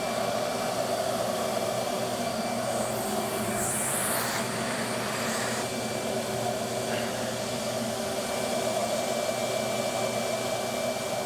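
A vacuum cleaner runs hooked up to an airflow meter, giving a steady, loud, unbroken whoosh of motor and rushing air with a faint high whine, continuous throughout with no talking.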